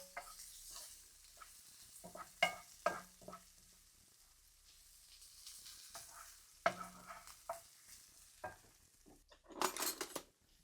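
Garlic with onions and mushrooms cooks in a pan for green bean casserole, a faint quiet sizzle broken by intermittent clinks and scrapes of a utensil against the pan, with a louder clatter near the end.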